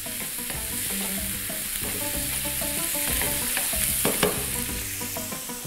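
Salted peppers sizzle in a hot pan while a utensil stirs them, close, steady frying with repeated scraping and clinking strokes.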